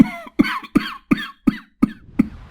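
A man coughs hard and loudly, seven harsh bursts in a steady rhythm with short gaps between them, close and clear.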